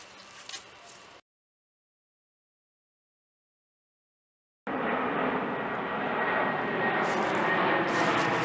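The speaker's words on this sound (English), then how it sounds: "Low flying C-130." Low-flying C-130 military transport aircraft passing overhead outdoors in woodland, a steady loud broadband propeller-engine roar that starts abruptly after a brief quiet gap and holds for several seconds.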